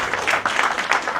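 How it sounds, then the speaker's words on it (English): A temple audience gives a round of applause at a Ramayan Katha event at a London mandir: steady, dense clapping from many hands fills the short stretch, fairly close and loud with no talk over it. "Give a big round of applause."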